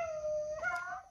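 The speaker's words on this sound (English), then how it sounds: "All these dogs looking for the rabbit out here." A hunting dog gives a single long, clear howl outdoors during a rabbit chase, with a second wavering howl overlapping near the end.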